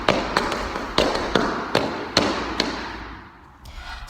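Folklorico zapateado footwork during turns, sharp heel and toe strikes on a hard floor landing in irregular clusters, crisp and fairly close, with no voices.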